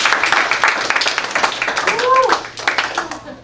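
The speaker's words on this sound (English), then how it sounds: "How about a nice round of applause for our S's?" Brief audience clapping during a speaker training presentation, a short burst of hand claps mixed with voices and a faint whistle-like tone, fading quickly.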